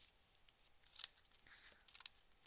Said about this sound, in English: And I'm starting by just cutting these apart.